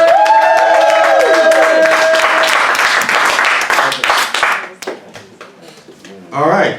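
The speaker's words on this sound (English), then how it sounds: "Everybody give it up for the very funny Mr." Comedy club crowd breaks into loud, dense applause with whoops and cheering for a comedian, a voice shouting over the roar before the clapping thins out and fades.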